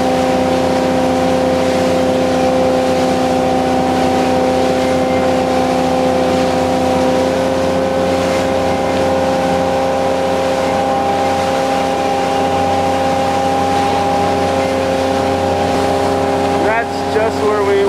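A steady, loud engine drone from motorboats runs throughout, with wind and rushing water, as small boats pass close by off Grand Bahama Island.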